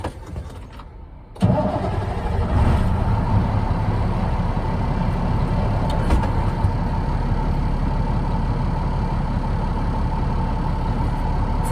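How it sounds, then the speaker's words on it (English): A Class A truck with a manual 10-speed transmission cranks briefly and starts, then settles into a loud, steady diesel idle rumbling close by for the rest of the time, no talking. "I'll now do a safe start on the vehicle."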